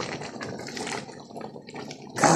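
Wet, faint sloshing as Nigerian egusi soup with uziza leaves is stirred in a pot, a soft liquid churning with a brighter splash at the end.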